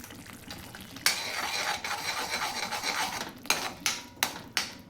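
Spice powder being stirred into shev bhaji masala in a pan, a continuous scraping and sizzling rasp with a few sharper scrapes of the spoon near the end, close and without voices.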